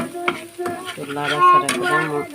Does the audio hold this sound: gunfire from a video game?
no